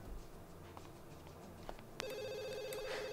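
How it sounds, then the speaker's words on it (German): A telephone rings in The Sims 2, a bright electronic ringing tone that starts abruptly partway through and continues steadily over soft game background sounds, fairly faint overall. "geh mal ans Telefon"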